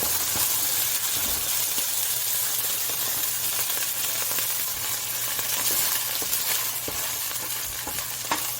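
Beef frying in a wok gives off a steady, close sizzle with small bursts of crackle and light stirring, and the sound stays constant throughout with no talking.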